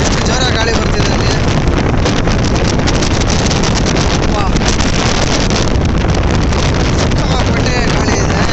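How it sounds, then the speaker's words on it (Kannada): Strong wind buffets the microphone outdoors on a trip from Bengaluru to Wayanad near a hilltop temple, a loud, continuous roaring rush that fills the whole clip with no clear voices. "ಸಿಕ್ಕಾಪಟ್ಟೆ ಗಾಳಿ ಇದೆ."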